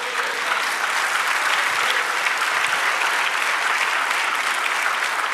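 A congregation applauds during a church service, steady dense clapping from many hands filling the room at moderate loudness, with a few faint voices mixed in.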